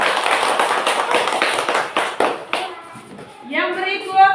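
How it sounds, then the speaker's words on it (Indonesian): A room of students claps for a student group, brisk, uneven handclaps for about three seconds that fade, followed by a voice starting to speak. "Oke, tepuk tangan untuk kelompok visual"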